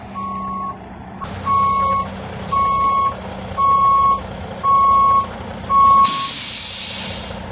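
A tow truck backs up with six loud, evenly spaced reversing beeps over a low engine rumble, ending in a sharp hiss of released air. No one speaks.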